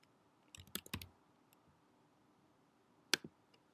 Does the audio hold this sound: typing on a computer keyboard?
yes